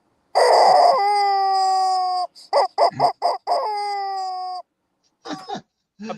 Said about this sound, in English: I bought him a rubber chicken, but it's not for him to play with.